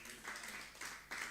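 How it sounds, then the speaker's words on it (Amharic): A church congregation claps in praise of the Lord, three quick surges of applause rising and fading, heard quietly from a distance. "እስቲ ዝም ብላችሁ አጨብጭቡ ለጌታ ክብር።"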